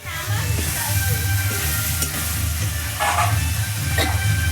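Spices sautéing in a pan for Bengali green pea ghugni: a steady, close sizzle and hiss continues throughout, with faint stirring scrapes now and then.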